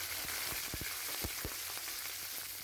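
Green chilies sizzle in a pan of fried onions for a magur fish curry, a steady hiss of frying broken by several sharp low pops and crackles.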